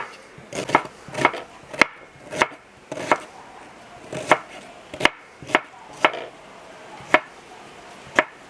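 A knife chops through onions on a board, about fourteen sharp, close strikes at an uneven pace with short pauses between them.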